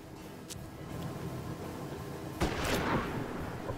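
Single sharp sniper rifle shot from the western tactics video game Hard West, a loud broadband crack about two-thirds through over a steady low game ambience.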